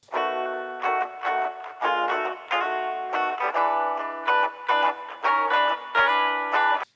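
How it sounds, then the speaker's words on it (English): An electric guitar played through a Waves Reverb bright chamber setting strums a rhythmic series of chords, each ringing bright and full with a short shimmering tail before the next stroke. "here I've loaded a bright chamber from Waves Reverb, and let's listen to how that sounds on the guitar"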